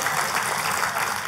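Loud, sustained applause from a church congregation, a dense, steady wash of clapping filling the space without a break.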